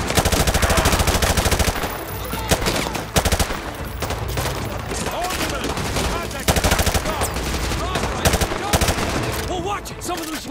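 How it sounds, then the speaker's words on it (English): Dense gunfire in the Call of Duty Modern Warfare 2 Remastered video game during a firefight at a school, with sustained automatic bursts and sharp single shots loud and close throughout. "We are taking heavy fire from the school."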